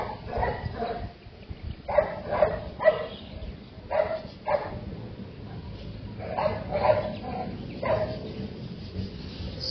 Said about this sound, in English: Our dogs keep barking.